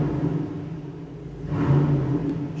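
A Hummer bought at auction, with a check engine light on and a fitted exhaust, runs with a steady low rumble and whir that swells midway as the engine revs slightly, close and continuous.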